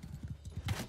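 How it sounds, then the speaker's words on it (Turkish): Horse hooves clip-clop in Mount & Blade II: Bannerlord, a quick rhythmic run of soft thuds, close and steady, with a brief snort or whinny near the end. "Oha, bir tanesinin atı var."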